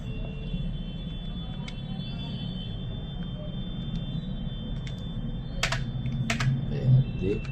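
Computer keyboard keys pressed a few times after a restart to reach the BIOS, sparse clicks over a steady background hum and rumble, fairly close and clear.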